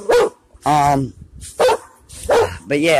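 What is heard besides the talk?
dogs barking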